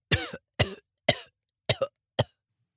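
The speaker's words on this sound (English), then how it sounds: "How long have you had that cough?" Five separate harsh coughs come in a steady, evenly spaced series, loud and close, with silence between each one.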